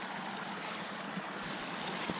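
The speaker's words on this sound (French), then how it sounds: "Les petits ruisseaux qui coulent." A small stream flows through a snow-covered forest in the Prémol forest of the Belledonne massif in Isère, a steady close wash of trickling water with a few faint knocks and no voices.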